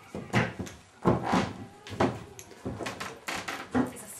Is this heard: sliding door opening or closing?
yes